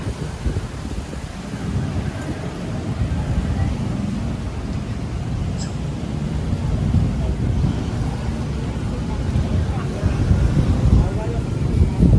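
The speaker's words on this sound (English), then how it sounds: "It is getting windy." Steady wind in Ho Chi Minh City, Vietnam buffets the microphone in a low, continuous rumble that stays loud throughout, with no clear breaks.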